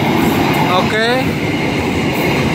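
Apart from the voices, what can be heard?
conventional train passing by in Padalarang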